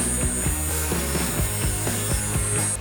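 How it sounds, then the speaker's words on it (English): A table saw trims wooden boards down to matching widths for a simple bat house, a steady loud machine drone with repeated rhythmic cutting pulses throughout, no voices. "we're going to take these on a table saw and we're going to try and trim these down to the smallest board"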